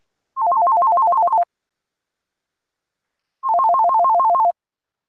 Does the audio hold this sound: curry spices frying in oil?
no